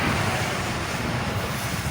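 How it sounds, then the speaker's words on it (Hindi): A train passes along a mountain road, a continuous loud rumble of rail cars with faint wheel clatter, heard up close and alone without talk. "सामने के ट्रेन भी गुजर रही है"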